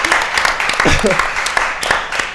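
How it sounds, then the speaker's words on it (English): A short burst of audience clapping, lively and fairly close, with a voice talking over the claps. "Please give me a clap."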